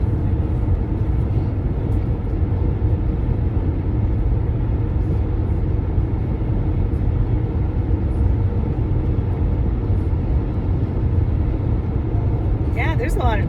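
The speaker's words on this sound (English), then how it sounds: "There's a lot of traffic on the road today." Inside a car driving Highway 395 in the Eastern Sierras, a steady low road rumble runs throughout while people talk over it.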